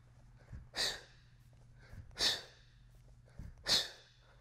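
Three sharp, forceful exhales through the mouth during bodyweight Rocca press reps, evenly spaced about a second and a half apart, each a brief breathy rush, close and clear over a quiet low hum.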